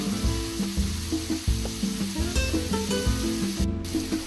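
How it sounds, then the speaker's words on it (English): Cubed boneless skinless chicken breast frying over medium-high heat in a paella pan, a steady close sizzle broken by repeated scraping and stirring knocks. "we're going to fry these over medium-high heat just for a minute or two until they're slightly browned"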